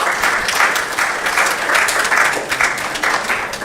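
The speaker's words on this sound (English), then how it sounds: "I think they deserve a better round of applause" Audience at a policy conference on gender and extractive industries giving a round of applause, loud sustained clapping with a slight rhythmic pulse, continuing unbroken throughout.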